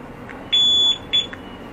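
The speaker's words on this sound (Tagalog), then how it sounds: "tapos bilangin nyo yung beep, beep, beep, beep" A two-way car alarm gives short, high electronic beeps while its sensitivity is set during installation. Two clear tones stand out over a quiet background.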